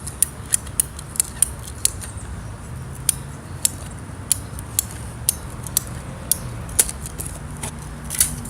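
Pruning shears snip away at an old broken irrigation pop-up spray head in a yard, a close series of sharp, irregular clicks and cuts over a low steady background hum.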